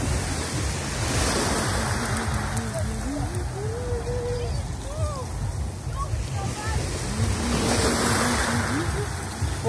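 Sea waves wash up around the knees of someone standing in the surf, a steady close rush of water with swelling surges; a low rumble sits underneath and faint whistle-like tones drift above.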